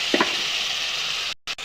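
Masala of coriander, cumin and chili powders with ginger garlic paste and a splash of water sizzles loudly in a pan, a steady close hiss with a brief stirring scrape near the start and a sudden short cutoff near the end.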